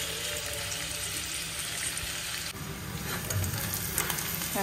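Potatoes and green beans fried in oil with a ground poppy-seed, garlic and green chilli paste sizzle steadily and close by, with a shift in the crackle midway as the paste goes in and some stirring.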